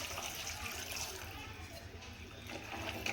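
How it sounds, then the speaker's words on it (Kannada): A glass of water pours into a pressure cooker of pasta, a soft continuous rushing splash lasting a few seconds at low level, with a voice faintly present. "ನಾನು 1 ಗ್ಲಾಸಷ್ಟು ನೀರು ಹಾಕ್ತೀನಿ"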